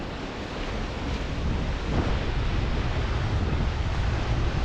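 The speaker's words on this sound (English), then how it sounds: "see when you get these waves like rolling in, it's just mad" Storm waves roll in against a rocky Scottish coast during Storm Ashley, a continuous roaring surf with heavy wind buffeting, swelling louder after the first couple of seconds.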